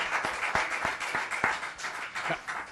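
Applause from a church congregation during a Spanish-language discipleship class on spiritual warfare, a steady wash of clapping with a few sharper claps standing out, fairly close and moderately loud, with no one speaking over it.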